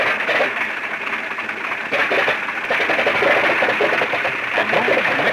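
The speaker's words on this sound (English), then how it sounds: "Then the co-pilot starts the engine," The number 3 engine of a 1943 turbosupercharged bomber runs with a loud, steady mechanical drone and rapid rhythmic chatter, briefly dipping before surging back to a sustained roar, heard alone up close.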